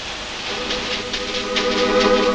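A 1,800 horsepower diesel hydraulic T4784 locomotive running, a dense steady rumbling drone with layered engine tones that swells slightly louder toward the end, no voices.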